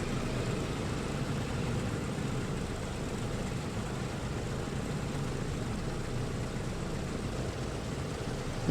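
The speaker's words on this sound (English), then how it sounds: "And number 3 engine starting up nicely." The number 3 piston engine of a PMDG DC-6B airliner runs in Microsoft Flight Simulator, a dense, steady, rumbling drone that holds at even loudness throughout.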